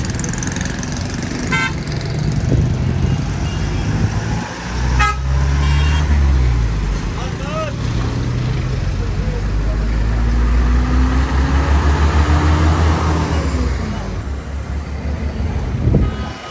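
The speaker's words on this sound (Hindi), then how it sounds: "ट्रैफिक सारी ब्लॉक।" Busy road traffic at a blocked street, with a steady rumble of engines and several car horns honking, some long and some short, while people talk in the background.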